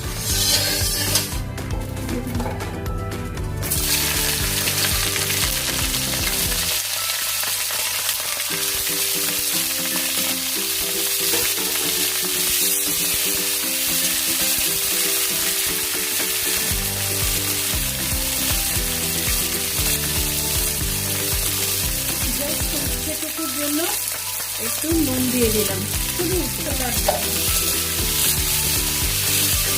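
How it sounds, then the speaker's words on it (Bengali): Bitter gourd frying in oil or ghee in a pan, a steady loud sizzle running throughout, with background music and someone speaking briefly over it. "এবারে এটা উচ্ছেটা আগে ভেজে তুলে রাখতে হবে"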